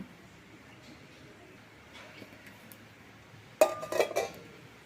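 A metal lid lifted off a pan of potato pakora batter near the end, a sharp close clink and short rattle of metal after several quiet seconds of faint kitchen ambience.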